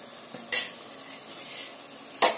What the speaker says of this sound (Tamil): நல்லா கலந்து விட்டுருங்க, ஒரு நிமிஷம் மட்டும் நல்லா கலந்து விடுங்க.